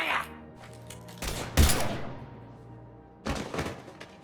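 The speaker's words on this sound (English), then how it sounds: "Now open fire!" Gunfire in the Mass Effect Legendary Edition game, with bursts of shots around the middle and again near the end, broad and punchy over quieter background rumble.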